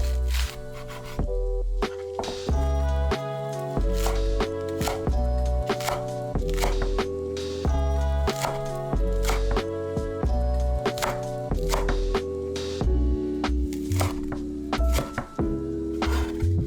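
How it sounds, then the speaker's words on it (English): A knife slices large, thick scallions lengthwise on a cutting board for Kung Pao chicken, giving steady, rhythmic close-up knocks against the board over continuous background music. "If your scallions are large and thick, slice them lengthwise to enhance the release of their aroma."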